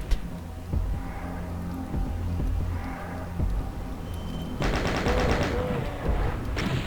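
Chaingun fire from a chaingunner enemy on a Doom map comes in scattered shots at first, then turns into a dense, loud, sustained rattle of rapid fire during the second half, with other game noises beneath.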